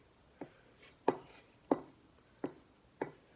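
A fork or whisk knocks against a bowl while eggs are mixed with pepper and seasoning, giving five sharp, evenly spaced taps, close and clear over a quiet background.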